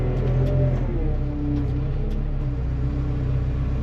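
A farm telehandler's engine rumbles loudly and steadily while it nudges a truck stuck in snow, with slight revving and no talking.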